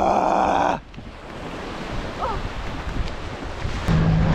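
Strong wind buffets the microphone aboard a small aluminium tinny out at sea, with a steady roar of wind and waves. A loud tonal hum cuts off early and returns near the end.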